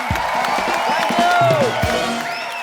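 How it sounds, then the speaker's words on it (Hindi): Studio audience of a comedy show clapping and cheering, a short burst of claps with whoops and musical tones mixed in, loud and lively over a brief stretch. "एक बार मिस्टर अर्शद वारसी और मरिया के लिए जोरदार तालियां"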